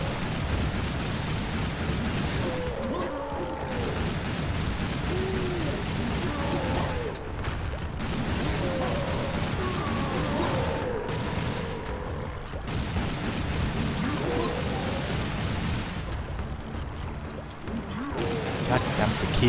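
Serious Sam 2 gunfire: dense, rapid bursts of shots and blasts crackle nearly nonstop against a busy game backdrop, with a voice heard talking intermittently over the shooting.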